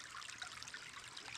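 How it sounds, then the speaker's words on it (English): Meltwater trickling and flowing through icy ground where icicles remain, a faint continuous splashing burble that is steady and close, with no talking. "That water's back flowing again."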